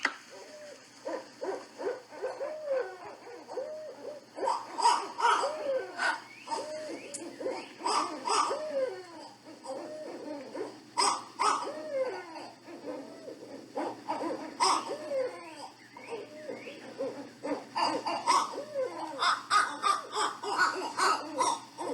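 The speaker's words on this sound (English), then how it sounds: "Here are some real owls doing this." Real owls caterwauling with 'who-cooks-for-you' hooting calls, several birds trading loud, rhythmic hoots and cackling squalls in repeated bursts over about twenty seconds, with no talk.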